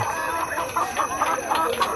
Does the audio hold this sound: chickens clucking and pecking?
yes